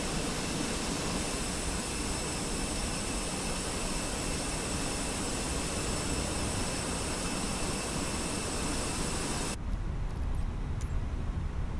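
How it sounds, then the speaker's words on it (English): An Airbus A321 (Fenix A321 add-on) in Microsoft Flight Simulator 2024 spools up during engine start, a steady, loud jet roar with a high whine that shifts and thins near the end, with no talking. "Starting engine 1."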